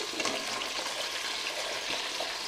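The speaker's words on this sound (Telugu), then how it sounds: "దోసకాయ ముక్కలు అలాగే సొరకాయ ముక్కలు కూడా వేసేసుకుని కొంచెం పచ్చివాసన పోయే వరకు వేయించుకోవాలి" Cucumber, bottle gourd, radish, tomato, carrot and drumstick pieces fry in a pan for Andhra-style sambar, a steady close hiss of sizzling with faint stirring and no voices.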